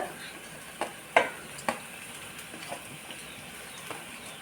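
Onion, green chilli, carrot and potato are stirred in a pan. A few sharp scrapes and knocks of the spoon stand out over a soft, low sizzle, close and fairly quiet, with no talking.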